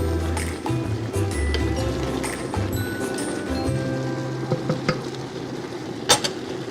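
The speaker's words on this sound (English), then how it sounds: "I have a wooden spoon here. I'm just going to stir it a little bit, make sure that none are sticking to the bottom." A wooden spoon stirs apples in a pot on a burner, making soft continuous wet churning and scraping along the bottom, with a few light knocks, fairly close and steady.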